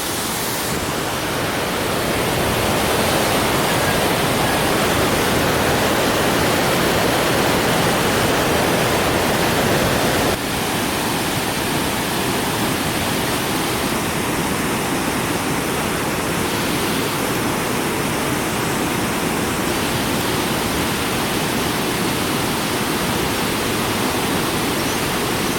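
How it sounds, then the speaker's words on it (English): A jungle waterfall at Paronella Park in Queensland roars steadily when heard from the top, a dense, unbroken rush of falling water that fills everything at a constant loud level. "We're standing on top of a waterfall."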